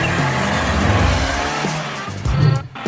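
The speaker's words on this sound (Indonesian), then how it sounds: "Dalam perjalanan yang mengasyikan dengan mobil barunya." A new car pulls away with a steady engine roar and a brief tire squeal, loud and close, the sound swelling then dipping abruptly near the end.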